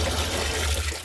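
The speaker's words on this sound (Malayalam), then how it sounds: "ഡ്രമ്മിലേക്ക് ഒഴിച്ചതിൽ വീണ്ടും നമുക്ക് വെള്ളം വേണം." Water pours into a drum in a brief, continuous gushing splash, close and fairly loud.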